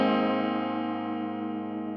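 Electric guitar chord ringing out through a Walrus Audio Julia chorus pedal set to high depth, giving a swirling, flanger-like sweep that sustains and slowly fades over two seconds, with no talking.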